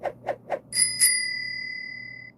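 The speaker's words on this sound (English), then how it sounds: "Let's figure out why after the bike bell." Three quick soft taps lead into two bright dings of a bicycle bell, the second ring sustaining and slowly fading out, close and clear with nothing else around.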